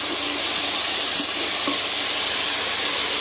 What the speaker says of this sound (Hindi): देखिए मैंने ऐड कर दिया टमाटर और हरी मिर्च, प्याज का कलर निकल गया है।